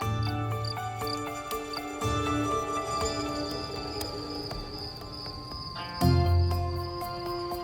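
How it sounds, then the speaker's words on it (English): Field crickets chirp on a summer night in a meadow, with short, high, pulsed trills repeating over sustained tonal music that swells near the end. "The shy field cricket is famous for its music."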